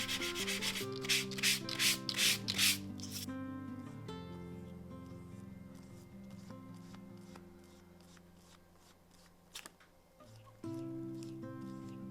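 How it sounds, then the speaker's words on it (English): Sanding the edge of polyester Veladon reinforcement material for a calf-leather ID card holder: a few quick, brisk rubbing strokes up close, followed by quieter, intermittent scraping and light handling. "You have to sand it an awful lot."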